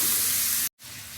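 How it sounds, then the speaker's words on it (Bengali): Potatoes, beans and cauliflower fry in a pan with a loud, close, steady sizzling hiss that cuts out for an instant and then resumes slightly softer. "একটু ভাজা ভাজা হচ্ছে"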